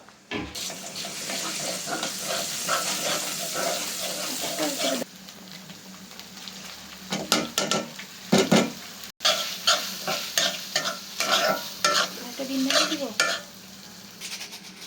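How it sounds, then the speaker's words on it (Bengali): Noodles are stirred and fried in a home kitchen pan, with a steady frying hiss at first, then a run of close, uneven scraping and clinking stirring strokes. "আম্মু নুডলস রান্না করছে"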